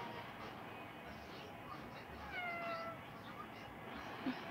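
A cat meowing in the video game Madness Accelerant: a few short, thin meow cries rising out of a constant hiss of background noise, moderately faint and spread across the moment with no other clear sounds.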